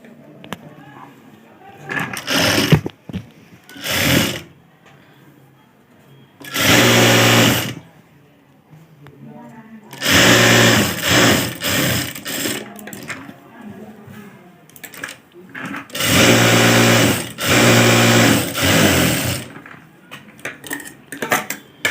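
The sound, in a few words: sewing machine stitching along a folded fabric edge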